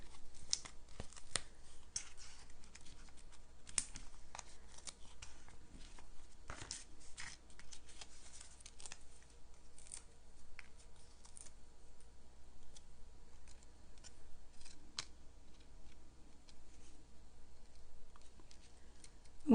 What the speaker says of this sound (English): Just snip off this little piece that's sticking out.